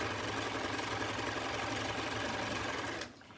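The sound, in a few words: sewing machine sewing a straight stitch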